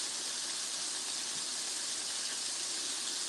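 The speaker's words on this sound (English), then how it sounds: "So the fish is frying." Fish frying in a pan on a home kitchen stove, a steady bright sizzling hiss that holds constant and close without pause or talk.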